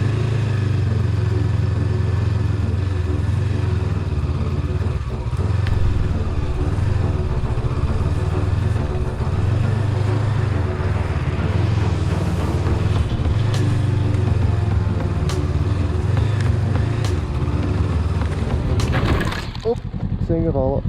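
Honda CB500X adventure motorcycle riding an overgrown, rutted off-road track on the TET route in France, its engine droning steadily with rattles and bumps throughout and a clatter near the end.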